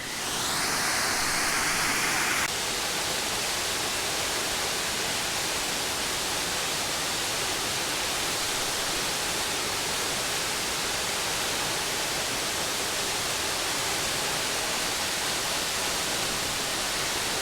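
Steady, broadband rush of a waterfall at Lake Crescent in a rainforest setting, loud and continuous from start to finish with no voices.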